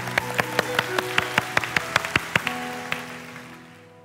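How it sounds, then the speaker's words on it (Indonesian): A run of about a dozen sharp, evenly spaced claps from a church congregation, steady at first and then thinning out, while a sustained musical tone plays underneath. "Berikan tepuk tangan. 1, 2, 3."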